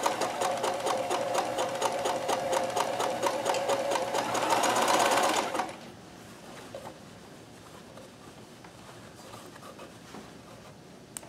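Kenmore 158.1914 sewing machine chain stitching, a fast, steady, close mechanical whir that runs loudly for about five seconds, then stops, leaving faint handling noise.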